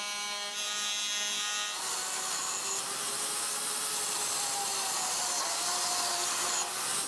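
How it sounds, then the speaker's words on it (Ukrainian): Steady, continuous abrasive rubbing of wood, like sanding a board, running without pause at a constant level with a faint high tonal whine. "відшліфувати дошку"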